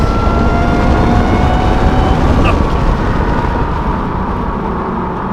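A supercharged Ford Raptor pickup truck drives at speed, giving a loud, steady broadband roar of engine and road noise with a faint whine, easing off slightly toward the end.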